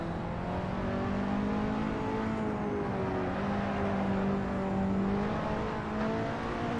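Engine of a KTM X-Bow in the Assetto Corsa racing game, a steady droning hum that rises and falls in pitch as the car drives on, continuous and moderately quiet with no talking.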